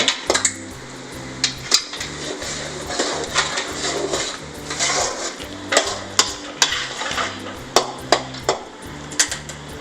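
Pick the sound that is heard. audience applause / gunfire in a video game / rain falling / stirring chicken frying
stirring chicken frying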